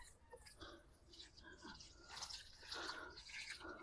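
Water trickles and drips onto freshly planted white sage cutting in soil, a soft irregular splashing close by and fairly quiet, with faint voice in the background.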